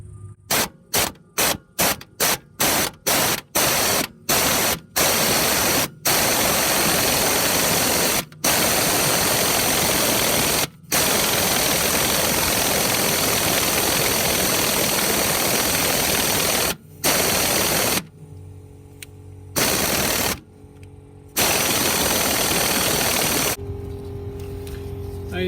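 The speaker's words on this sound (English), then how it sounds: "I'm going to try with the impact." An impact wrench hammers at the rear shock top nut of a 2008 BMW 135i E82, loud and close: a string of short bursts comes first, then a long continuous rattling run broken by brief pauses.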